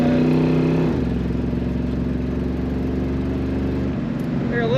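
A 1968 Mercury Montego MX convertible with an automatic transmission running, its exhaust note a steady low droning rumble that shifts pitch briefly near the start, with a faint whine toward the end.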